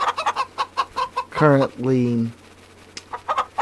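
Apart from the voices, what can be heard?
chickens clucking in Farming Simulator 25 video game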